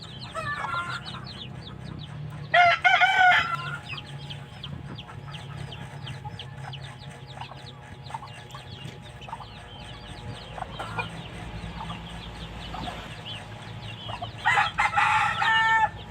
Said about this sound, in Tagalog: Bantam na siya nga manok, guys.